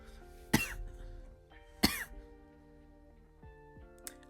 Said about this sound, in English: whenever I cough, it's like that kind of dry, kind of small cough